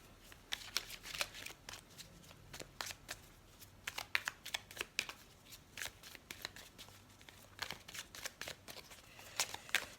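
Tarot cards are shuffled by hand during a reading, a quick run of close, crisp riffling and flicking bursts in an irregular rhythm, fairly quiet with no talking over it.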